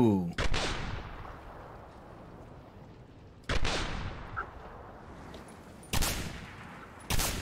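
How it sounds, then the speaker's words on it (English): Semi-automatic sniper rifle fired in the video game Singularity: four loud, sharp shots, each followed by a long fading echo, spaced a few seconds apart. "This variant is a modified semi-automatic sniper rifle."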